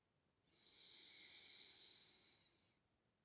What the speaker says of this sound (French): Je ferme la narine gauche. J'inspire narine droite.